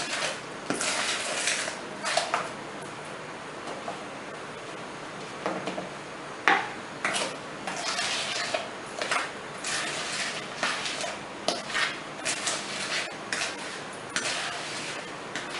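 A plain spoon folds coconut and raisin cookie mixture by hand in a bowl. Soft scrapes and light clinks of metal on the bowl repeat unevenly over a steady background hiss.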